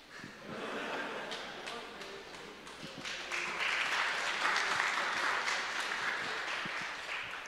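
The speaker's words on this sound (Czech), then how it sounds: "Teďka by mě zajímalo, komu tleskáte teda" A conference audience at a bitcoin event applauds, a steady wash of many hands clapping that swells and holds at moderate volume across the room.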